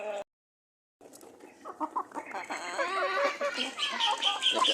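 Native chickens kept as farmyard fowl cluck and chatter in a busy overlapping chorus after a brief silence, growing denser and louder, with a voice faintly in the background.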